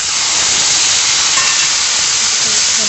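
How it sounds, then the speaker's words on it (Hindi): Spices such as asafoetida, a cinnamon piece and bay leaf hit hot oil for a tadka, giving a loud, steady, close hiss of sizzling that holds evenly with no pauses. "अब हम तड़का लगाएंगे।"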